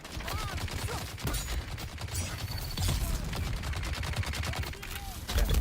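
Rapid gunfire bursts crackle through a Deep Desert video game firefight, sharp repeated shots in quick volleys that intensify toward the end, with a voice and game sounds mixed beneath.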